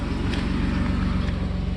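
A 1980s Mercedes 300SE W126 engine idles steadily after a cold start with a low, even rumble and faint rhythmic pulsing, running continuously without a break.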